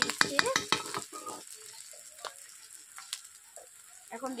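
Ginger, garlic and onion frying together in a pan, with a burst of clattering stirring at the start that settles into a soft, steady sizzle with occasional light scrapes.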